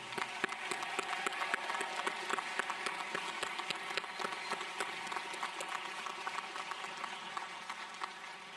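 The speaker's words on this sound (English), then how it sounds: "please join me in a round of applause for everyone that helped make this today happen" Audience applause at a College of Pharmacy commencement ceremony, a steady, dense wash of many hands clapping that holds at an even level throughout, with no speech over it.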